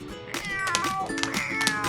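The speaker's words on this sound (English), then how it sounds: "secretly brought a kitty on board." Repeated meows from a kitty come close and loud in the cabin of an airplane, rising and falling in short cries with no pause between them.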